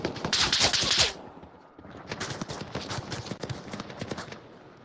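Rapid automatic gunfire in the VR shooter Onward, one loud close burst at the start followed by quieter, more distant rattling shots, with no talk over it.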